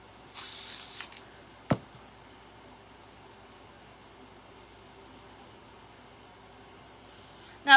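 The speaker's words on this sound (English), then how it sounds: "spray adhesive." Spray adhesive hisses from a can in one short burst of about half a second, close and fairly soft, followed by a sharp knock and quiet room hiss, during faux blueberry pie crafting from recycled materials.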